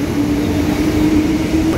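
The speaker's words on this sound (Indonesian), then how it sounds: "Ini kereta api listrik." Electric train running with a steady humming drone and a constant low rumble, close and fairly loud throughout, with no voices.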